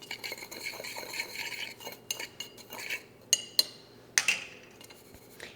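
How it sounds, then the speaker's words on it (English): A utensil clinks and scrapes in a bowl as seasonings for a traditional Thanksgiving turkey are mixed, with a few sharp taps against the side near the end, close and alone. "give this a good mix so that all of the seasonings are nice and combined"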